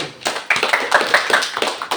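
Students clap hands in a classroom, a short burst of quick close claps at a fairly loud level, slightly uneven in rhythm, with no talking over it.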